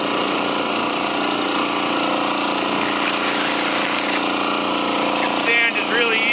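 A small gold-dredge engine runs steadily and loudly while sand is shoveled into its intake, a constant droning hum with faint scraping and splashing on top.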